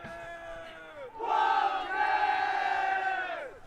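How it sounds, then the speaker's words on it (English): The Wellington Wildcats Omnicron ultimate frisbee team lets out a loud group cheer at the 2017 NZ Nationals open semi-final, a sustained chanted shout of many voices rising after a brief lead-in and holding for a few seconds. "Big cheer from Wildcats."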